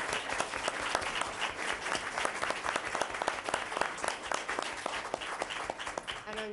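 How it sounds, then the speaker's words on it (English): Warm, dense applause from the audience at a 2018 selectmen candidates forum, continuous hand clapping across the room that holds steady, with a brief voice near the end. "And so now you can applaud."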